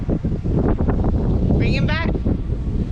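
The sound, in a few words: wind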